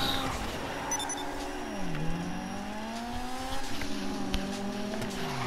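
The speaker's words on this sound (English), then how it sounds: "I'm just driving to my next house" A car driving in GTA V, its engine note rising and falling through gear changes and revs, with brief tire squeals, steady and close throughout.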